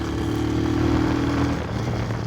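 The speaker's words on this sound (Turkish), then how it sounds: "Sesi kapalı egzoz olmasına rağmen gayet güzel bir sesi var." A Falcon Freedom 250 cruiser motorcycle idles with its stock closed exhaust, a steady, loud, close engine drone with a low even throb throughout and no talking.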